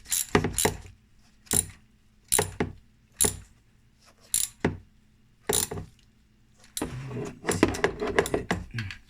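A ratchet with a 12 mm socket working on the EGR valve of a Honda Pilot, giving repeated sharp metallic clicking bursts in a steady stop-start rhythm, close up, ending in a busier run of clicks.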